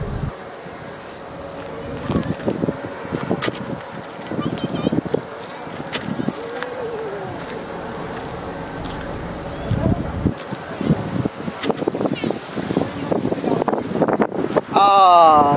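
Strong cold wind blows through a pine forest, roaring and buffeting close to the microphone in gusts, with a person speaking intermittently over it.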